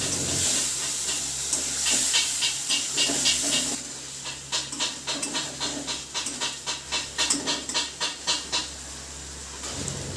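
A paste of ground cumin, ginger, dried chili and tomato fries over a low flame in a pan with potatoes. It gives a continuous close sizzle that turns into rhythmic pulses of hissing as it is stirred.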